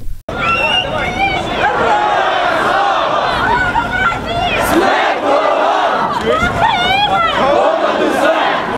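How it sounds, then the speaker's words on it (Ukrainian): Students at a flashmob shout national slogans together, a loud, continuous crowd roar with rising and falling chanted cries that carry over the whole stretch. "Самі ж студенти вигукували національні гасла та співали державний гімн."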